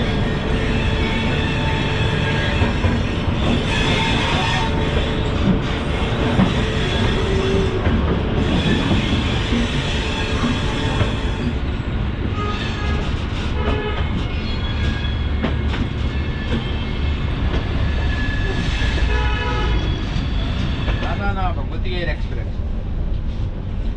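A Sampoorna Kranti Express train rolls along, heard from inside a first-class AC coach as a constant loud rumble with rhythmic wheel clatter and occasional squeals, while people talk faintly beneath it.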